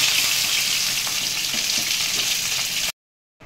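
Hilsa fish heads fry in hot oil in a pan, giving a loud, continuous close-up sizzle with faint stirring for about three seconds before it cuts to silence.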